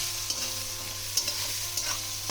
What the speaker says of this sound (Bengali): আমি এবার পেঁয়াজের সাথে আলুটাকে একটু সামান্য ভাজা ভাজা করে নেব।